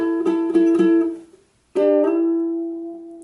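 A ukulele plays a song part: quick plucked and strummed chords ring out in a short rhythmic run, then a brief silence before one firm strum rings and slowly fades.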